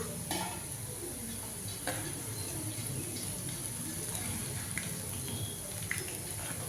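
Boondi for laddu deep fries in hot oil with a steady, dense hiss and crackle, broken by occasional light scrapes and clinks of a ladle; a voice speaks faintly underneath.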